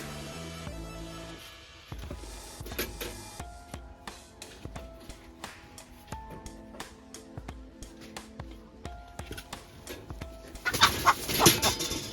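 Homestead chickens clucking in a series of short, sharp calls, fairly close and fairly loud, with a louder burst of squawking near the end.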